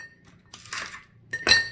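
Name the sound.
ice cubes dropped into a glass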